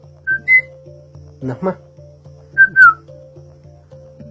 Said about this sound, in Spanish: El mazateco chiflado nace a través de la necesidad de comunicarnos a grandes distancias